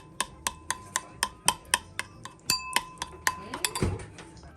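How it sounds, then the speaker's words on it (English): Garlic mixed into honey in a bowl for honey garlic chicken wings, a utensil clinking against the bowl in a steady run of about a dozen sharp, close taps, with a heavier knock near the end. "And then I'm going to add the garlic to the honey. And you want to mix everything in."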